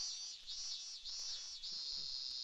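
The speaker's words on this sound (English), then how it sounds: "I hear you, cicada." Cicadas in the summer heat of a sun-baked seaside road drone in a shrill, continuous buzz that pulses in short waves, steady and fairly close.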